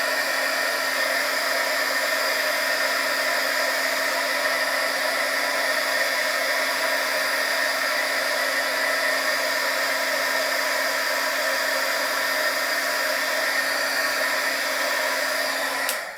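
A heat tool blows continuously over embossing powder on cardstock, a steady, loud, close whirring hiss with a constant tonal hum that runs unbroken for about sixteen seconds before cutting off.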